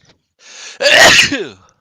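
A single sharp human sneeze, preceded by a brief inhaled breath and ending in a trailing voiced tail, close and loud in an otherwise quiet room.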